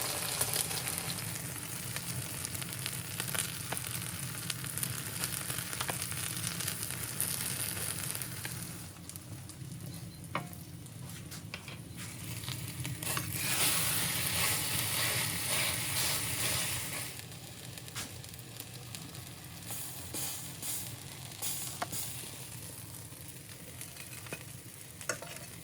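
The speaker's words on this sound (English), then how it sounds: "Now I'm toasting slices of white bread and topping them with homemade ragu." Slices of white bread toast in a pan outdoors in a mountain village, a steady, close frying sizzle that holds throughout with slight swells and occasional soft scrapes.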